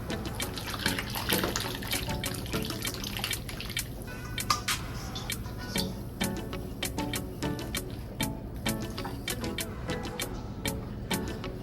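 Liquid is poured over turkey wings in a pan, running steadily in a soft trickle, with scattered sharp clicks and clinks throughout; no one speaks.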